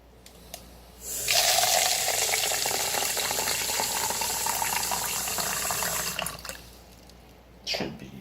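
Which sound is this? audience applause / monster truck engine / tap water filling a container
tap water filling a container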